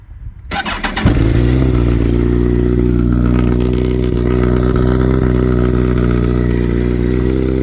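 A 2008 Kawasaki ZX14 motorcycle engine starts with a clattering crank, then settles into a loud, steady idle rumble close by.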